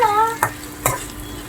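Chicken curry is stirred in a pan with two sharp scrapes of a utensil over a faint sizzle. A brief tonal sound is heard at the start.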